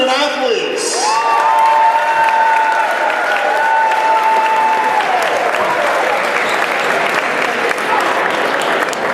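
A gym crowd at a high school girls' basketball game applauds its winter sports student athletes, with loud, sustained clapping and some cheering alongside a sustained tonal sound.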